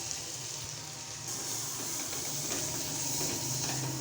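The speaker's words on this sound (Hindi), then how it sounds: "मसालों को थोड़ी देर फ्राई करेंगे।" Spices, whole cumin, red chili powder and turmeric, frying in hot oil in a pan, giving a steady, soft sizzle with a faint bubbling crackle throughout, no voices.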